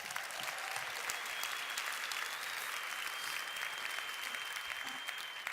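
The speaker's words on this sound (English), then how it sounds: "Give them a round of applause." Steady applause from an event audience, a dense even wash of clapping held at constant level throughout, with a faint crowd murmur beneath and no distinct voices.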